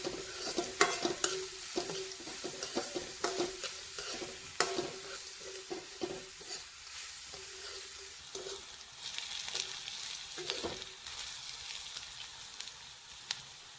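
Curry leaves and sliced onion fry in hot oil for a spicy vermicelli dish, giving a steady sizzle with frequent stirring clinks and scrapes from a spoon against the pan, close and without speech.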